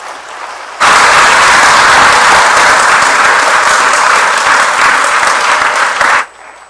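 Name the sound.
audience applause welcoming the pastor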